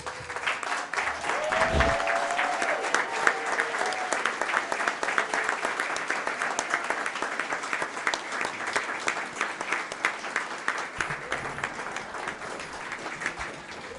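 Audience at an evening school board meeting gives a standing ovation, sustained dense applause lasting well over ten seconds at steady loudness, with a brief voice near the start.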